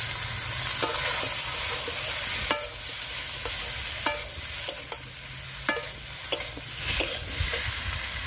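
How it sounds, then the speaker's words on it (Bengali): Fried cauliflower florets stirred into sizzling spiced masala for a silver carp fish curry, with a continuous frying hiss and irregular metallic scrapes and taps of the spatula on the pan, close up and with no voices. "এবার ভাজা ফুলকপিটা দিয়ে দেবো"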